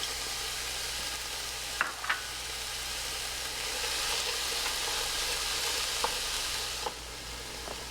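Chopped apple and dried cranberry cook in a pan, with a steady, fairly loud sizzle broken by a few brief clicks and stirring knocks.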